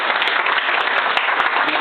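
Audience applause at the close of a talk, a dense, steady wash of many hands clapping at close range, loud and unbroken, with no voices over it.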